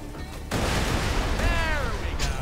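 Sentry turret firing in Borderlands 2, a dense burst of rapid gunfire and booming blasts with overlapping game effects, loud and close, with a voice talking over it.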